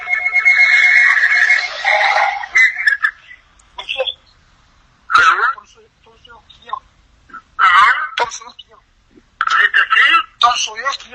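A telephone rings loudly for about two seconds at the start, with people talking and shouting over it and after it.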